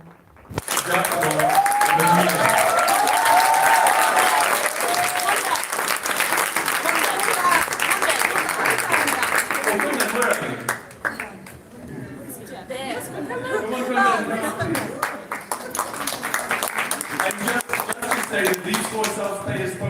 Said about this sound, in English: Can we have a big round of applause for one team?